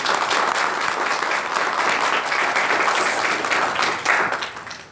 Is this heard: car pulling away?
no